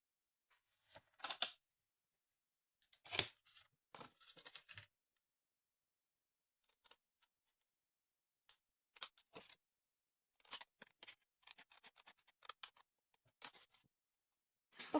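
Scissors snip through paper pieces for a handmade coin envelope, giving short dry cutting bursts in irregular clusters with quiet gaps between them, close and fairly soft.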